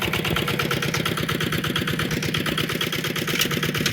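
Tractor engine running close by with a steady, loud, rapid chugging idle and even rhythmic knocks throughout, no voices over it.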